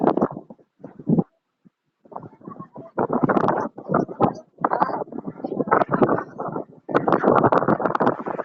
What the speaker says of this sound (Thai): โอ้ลมมาแล้ว